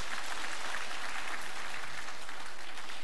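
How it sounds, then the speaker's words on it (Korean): A church congregation gives the choir a round of applause, with about three seconds of even, dense clapping that fills the room and no voices. "우리 하나님과 찬양대에 감사의 박수 같이 한번 드리겠습니다."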